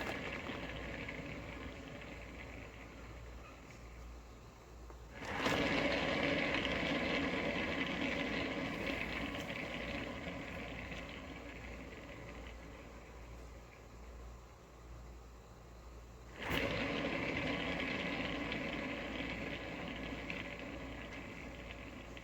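A spinner turning out an acrylic paint pour for a bloom technique gives a steady whirring hum, faint and continuous, with two abrupt jumps in loudness as the spin speeds up.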